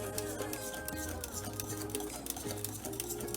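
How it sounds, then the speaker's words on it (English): A whisk beats keto pound cake batter made with sour cream in a bowl, producing rapid, irregular tapping and ticking over a steady background hum. "we're just going to beat this together with a whisk"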